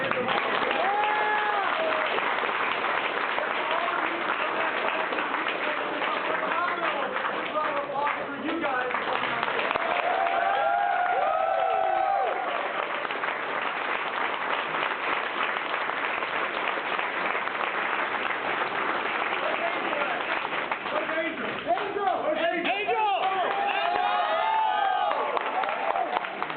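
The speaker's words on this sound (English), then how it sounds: "Big round of applause for Josh Anderson." An audience claps and cheers at length at a 2009 live event, a continuous loud roar of applause with whoops and voices rising through it.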